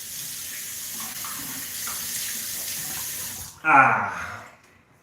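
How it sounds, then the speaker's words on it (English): Tap water runs steadily into a sink during a live straight razor shave session, a continuous close hiss that ends with a louder splashing gush of rinsing before fading out. "Let me wash all this off."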